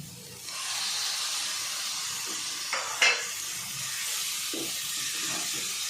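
Minced chicken keema dropped into a hot pan with spices gives a steady, close sizzling hiss throughout, broken by a brief scrape or clatter of a spoon around the middle and a few soft stirring knocks.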